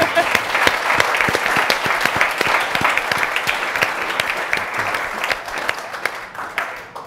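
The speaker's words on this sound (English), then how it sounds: "So a quick round of applause for our panelists." An audience applauds panelists at the close of a policy discussion, with dense, sustained clapping from a full room that holds steady for several seconds and then begins to thin out.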